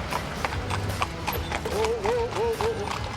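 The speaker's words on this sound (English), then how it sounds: "a lot of these horses here are worth thousands of pounds" Horses clip-clop on hard ground among Gypsy and traveller families in Britain, a steady scatter of hoof knocks heard under nearby voices and chatter.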